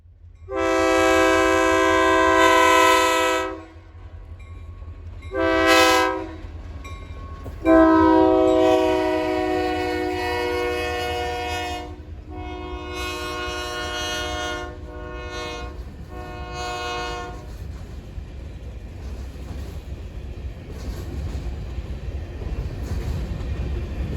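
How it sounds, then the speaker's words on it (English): A freight train, the Fort Pierce turn with 13 cars coming in from the FEC interchange, sounds loud multi-tone horn blasts, one long, a short one and a longer one, then rolls past with steady rumbling and rail noise. "the Fort Pierce turn now coming in with 13 cars from interchange at the FEC"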